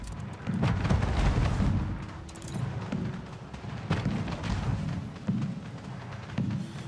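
Factory explosion in the city-building game Anno 1800, heavy booming thuds and rumbling bursts repeating through the stretch, loud and unaccompanied by talk.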